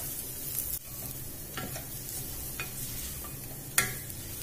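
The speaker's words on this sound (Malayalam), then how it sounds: "ഇതെല്ലാം കൂടി ഇട്ടിട്ട് നമുക്കിതൊന്ന് ഇളക്കിയെടുക്കാം." Spice powders, including coriander powder, being stirred as they fry for beef pulao, a faint soft sizzle under scattered scraping strokes and light taps of the spoon on the pan, with no talking.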